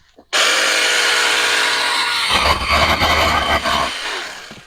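A 40 volt Wild Badger cordless saw whines loudly at full speed, then bites into a tree limb with a rougher, grinding cut before the motor spins down.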